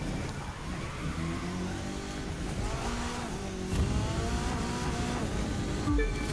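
A French hatchback races in The Crew 2 with an engine droning and revving through gear changes, accompanied by tire noise and brief skids, moderately loud with no voices.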